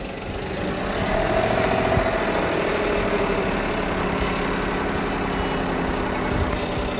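A 1998 Ford Expedition engine with a faulty upper lifter runs at a steady idle, a continuous close mechanical drone with a faint ticking rhythm.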